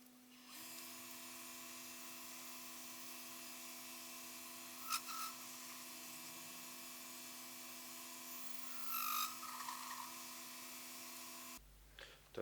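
A lathe tool ground from an old drill bit cuts a feature into a small flywheel for a DIY wobbler engine, giving a steady, high-pitched machining whine with slight chatter. The sound stays close and continuous for about twelve seconds, then stops abruptly.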